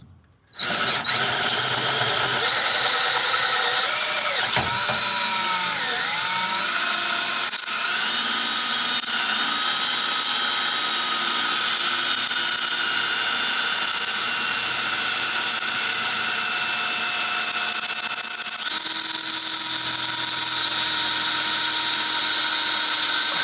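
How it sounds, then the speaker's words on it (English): A power drill bores through a rear axle part on a 1977 Camaro Z28 during brake line work, a loud continuous high-pitched whine and squeal that holds steady after starting, with a brief dip partway through. "Try and drill this one all the way through"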